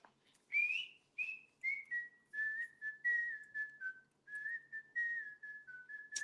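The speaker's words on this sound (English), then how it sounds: "Vibrato whistling." Solo whistling with a wavering vibrato, a series of sustained and gliding notes in short phrases, clear and close with no background talk.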